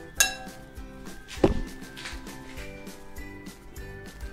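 Tuna and bean salad being stirred in a bowl: a sharp clink of a utensil against the dish, then a louder knock and soft scraping and tapping that continues quietly and close.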